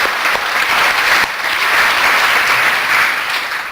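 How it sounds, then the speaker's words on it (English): Audience applause at an event in Pretoria, South Africa, a full, loud burst of many people clapping together, steady and dense across the whole stretch without speech over it. "a small little clap."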